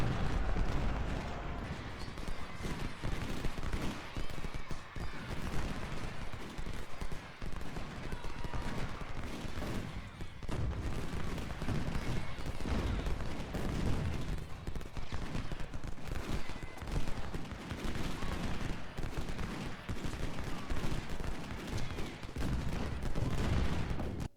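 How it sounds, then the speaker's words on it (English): Cannon and musket fire roll on through a battle in the video game Ultimate General, a dense unbroken barrage of booms and crackling volleys that holds for the whole stretch. "Notice how much better it's going now that I have cannons online."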